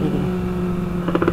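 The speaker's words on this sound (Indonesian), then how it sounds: "sekarang bawa motor berisiknya brong" A noisy motorcycle with an open, loud exhaust idles and rumbles steadily up close, with a few sharper revving bursts near the end.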